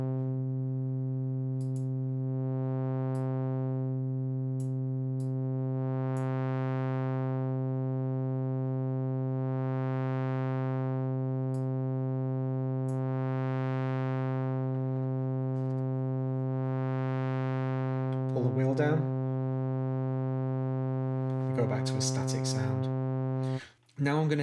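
A Spectrasonics Omnisphere synth holds one steady, loud note while its filter cutoff sweeps open and closed in slow, regular waves. A few clicks and glitches come in near the end.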